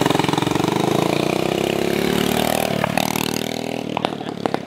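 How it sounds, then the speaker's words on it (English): Motorcycle engine idling nearby with a loud, steady, rough throb that continues without a break, rising briefly into a few sharper revs near the end. "I love how mean this bike sounds."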